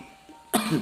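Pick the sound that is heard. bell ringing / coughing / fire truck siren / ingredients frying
coughing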